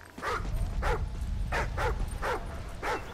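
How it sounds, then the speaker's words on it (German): A dog whimpers and yips in the video game Call of Duty Ghosts, six short whiny cries coming in a loose, uneven rhythm over a low rumbling game background. "Was ist mit dem Hund los?"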